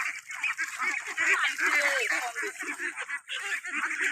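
A free-range flock of farm ducks quacks and honks in a dense, continuous chorus close by, with a voice talking over the noise.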